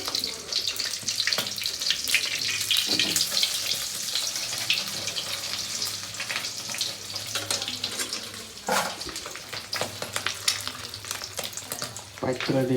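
An egg frying in a pan gives a steady, close sizzle with a bright crackling hiss that runs the whole time, mixed with some splashy, water-like texture and occasional clatter. No one speaks.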